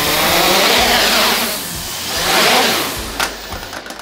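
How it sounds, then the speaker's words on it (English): An HKS500 RC helicopter with its gain set too high wobbles in a fast oscillation, its loud motor and rotor whine surging and dipping in rapid waves, up close and alone. "if this is too high when you take off, the copter's gonna have a fast oscillation"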